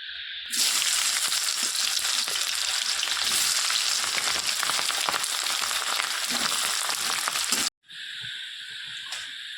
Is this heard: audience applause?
no